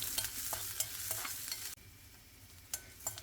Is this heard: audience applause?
no